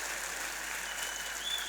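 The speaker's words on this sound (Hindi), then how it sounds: "एक बार अपने आप के लिए जोरदार तालियां बजा दें।" Distant, steady applause from a crowd at a poetry recital in Vadodara, a soft continuous patter of clapping without any voices.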